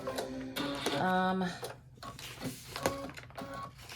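A home embroidery machine stitches a Kimberbell Save the Date pillow panel with a quick mechanical whir and rapid ticking, rising and falling, partly under a person's talking.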